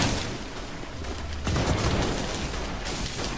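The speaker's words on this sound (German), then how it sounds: "Was sind das für Schüsse? Hier ist doch überhaupt nichts los." Gunfire in the video game Infamous: Second Son, a dense, noisy crackle of shots and booms over continuous game background, with one sharper burst partway through.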